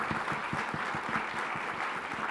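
Audience applause after a speaker's rapid-fire presentation on smoking care, a steady dense clapping from a hall full of people, moderately loud and even throughout with no talk over it.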